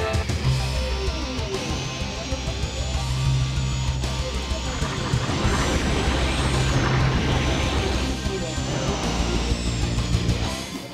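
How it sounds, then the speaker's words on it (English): Anti-gravity racing machines roar in the video game F-Zero X, a dense, continuous high-speed engine whine with shifting pitch from a field of racers, loud and unbroken throughout. "F-Zero X is all about racing super fast anti-gravity racing machines against a field of 30 racers on death-defying tracks"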